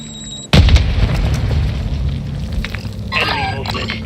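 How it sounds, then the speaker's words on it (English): A Semtex grenade goes off in Call of Duty: Warzone with one loud, close boom, then a long rumbling tail and scattered debris sounds, followed by a brief higher clatter near the end. "Throwing Semtex"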